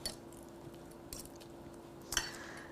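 A utensil stirs gelled flax seeds into a breakfast casserole mixture in a bowl, giving soft scraping with a few light clinks against the dish, quiet and close, with no talking.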